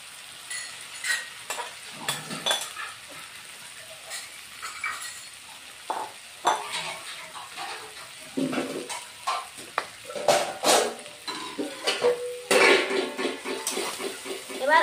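Jackfruit and potato pieces frying and being stirred in hot oil in a pan for a vegetarian curry, with a steady sizzle, repeated scraping stirs and clinks of a utensil against the pan, close and fairly loud throughout.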